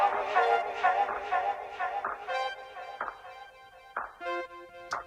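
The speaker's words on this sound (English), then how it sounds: "the final sound using the ESM Synth in this arrangement is going to be" Chord line played on Logic Pro's ESM Synth in an arrangement: bright, harmonically rich synth chords pulse in a steady rhythm, then give way to sharper, spaced stabs toward the end, loud and up front.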